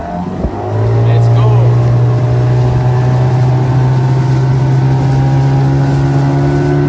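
An outboard motor on a dinghy starts up and roars steadily across open water on a tropical island crossing, loud and close with a constant engine hum and water rush throughout.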